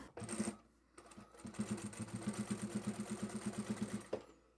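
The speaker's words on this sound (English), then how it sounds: "Okay, top stitching is done" A sewing machine top stitches a fabric pouch, a steady rapid run of needle strokes after a short burst and a pause, close and clear with no talking.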